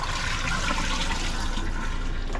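An RV toilet's foot flush opens and water rushes steadily down into the black tank below, a close, continuous gushing pour with no voices.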